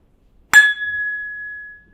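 A cognac glass, a Louis XIII Rémy Martin glass, is struck once and gives a sharp clink followed by a clear, pure ring that slowly fades in near silence.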